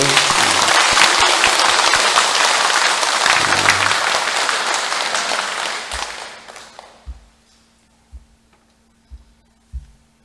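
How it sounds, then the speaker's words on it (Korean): Congregation in a Catholic parish church applauding during a talk on Our Lady of Fatima: loud, dense clapping that fades out over several seconds, leaving a few soft thumps in near silence. "다시 한번 큰 감사의 박수"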